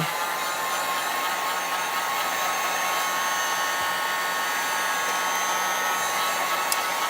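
A hair dryer runs steadily and close for the whole stretch, drying a chalk transfer on a craft stencil, its broad even whoosh unbroken by any talk.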